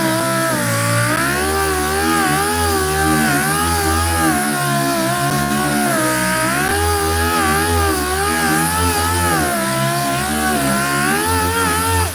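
An air-powered sander works on Volkswagen Beetle paint with a loud, continuous whine that wavers in pitch as the tool speed shifts, running steadily throughout with no talking.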